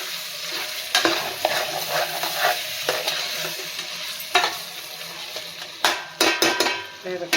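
Onions and tomatoes sauté with salt in a pan, a steady close sizzle broken by loud, irregular scrapes and clanks of a spoon stirring against the metal.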